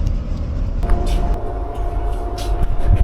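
Sleeper train in Vietnam, a steady low rumble of the carriage in motion with a faint tonal hum, continuous and fairly loud throughout.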